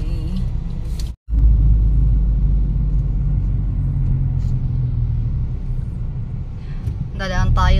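A car cruising along a national highway in the Philippines, with a continuous low road rumble and tyre noise, a brief dropout near the start, and a voice speaking over the engine drone toward the end.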